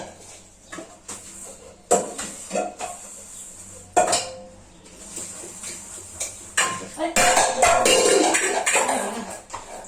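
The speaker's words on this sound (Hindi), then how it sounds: "काम के टेंशन की वजह से बर्तन भी छूट रहे हैं मेरे हाथों से ना" Steel dishes, pots and utensils clatter and clank repeatedly as they slip from gloved hands in a home kitchen, with irregular loud bangs and rattles, close and busy, under occasional talk.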